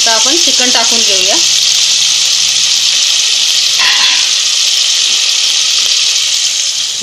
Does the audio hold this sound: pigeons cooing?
no